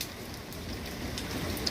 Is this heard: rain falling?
yes